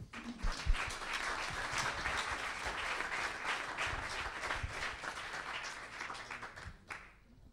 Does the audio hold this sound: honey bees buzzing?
no